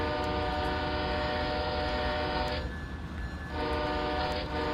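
Train Simulator 2020 CSX locomotive sounding its horn at a road crossing: a loud sustained chord cuts off briefly midway and then resumes over a constant engine rumble. No voices are heard.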